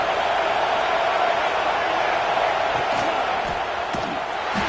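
A football stadium crowd at a college game roars continuously as the offense sits at first and goal, a loud, unbroken wash of fan noise with faint thuds and shouts inside it.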